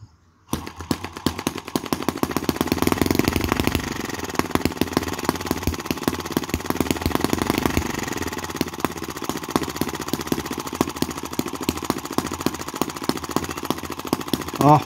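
A model vintage four-stroke sideshaft gas engine fires up for its first start and keeps running with a loud, steady stream of rapid chugging pops, running a little rich, close and continuous with no talk.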